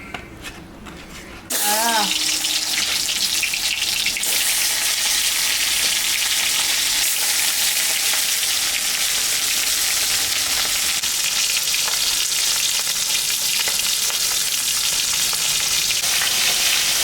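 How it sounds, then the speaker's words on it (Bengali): A fish head, from a mrigal carp, sizzles loudly in hot mustard oil in a kadai, a sharp burst of spattering after a brief quiet start, then a steady hiss throughout. "মাথাটা ভাজা হয়ে গেছে,"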